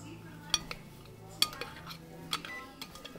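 A utensil scrapes and knocks inside a blender jar while blended almond is scooped out, giving scattered faint clinks and scrapes over quiet room noise.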